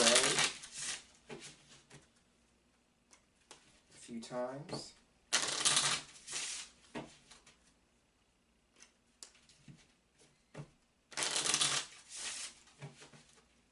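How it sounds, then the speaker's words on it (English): Several bursts of oracle cards being riffle-shuffled, crisp rapid fluttering, with someone talking quietly between and over them. "Now I'm going to shuffle the cards my usual way"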